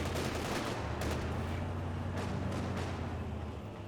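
Battle in Company of Heroes 2 with a Kübelwagen firing, a dense continuous roar of rapid gunfire and rumbling combat noise, loud and sustained throughout.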